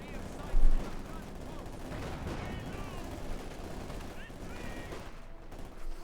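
In a Company of Heroes 2 battle between Wehrmacht and Soviet forces, a loud low explosion booms near the start, then dense gunfire and battle noise rumble on steadily, with faint voices underneath.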